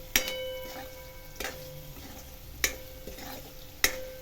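Spoon or spatula stirring spices into a yogurt tadka in a pan, with a few distinct scraping knocks spaced about a second apart over a faint steady sizzle, no voices.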